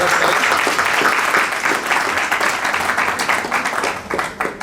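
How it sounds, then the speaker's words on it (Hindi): Loud, steady applause from wedding guests welcoming a speaker, a dense burst of many hands clapping that holds strong before tapering slightly at the end. "तो प्रभु इनके द्वारा एक जोरदार तालियों के साथ का स्वागत करें।"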